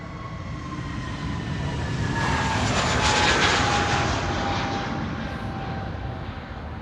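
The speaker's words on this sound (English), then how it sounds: "there's KLM flight 1005 to London Heathrow" A KLM airliner bound for London Heathrow passes at Schiphol, jet engine roar swelling to a peak midway and easing off, with faint tonal whines gliding downward through the pass.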